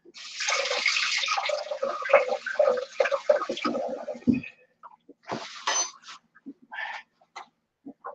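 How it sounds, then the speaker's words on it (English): Tap water runs into a kitchen sink while fingers are rinsed off after cutting homemade Dutch apple pie, a steady close splash for about four seconds that then stops, followed by scattered small clinks and handling noises. "All right, Jen, I'm gonna wash my fingers off here."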